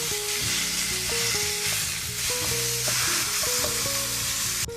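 Ground beef and vegetables for Cajun dirty rice sizzle steadily in a pan as they are stirred, the frying hiss continuous and close beneath background music.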